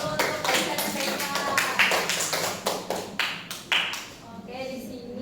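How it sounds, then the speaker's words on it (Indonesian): Classroom students clapping for two classmates: a steady run of close, sharp hand claps lasting several seconds that thins out toward the end, with voices mixed in. "Ayo kasih aplaus dulu untuk Aisyah dan Tessa"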